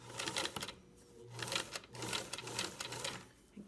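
A sewing machine stitches along the edge of fabric in quick mechanical bursts, pausing briefly between runs, with a low motor hum beneath the clatter; close and fairly quiet, no voices.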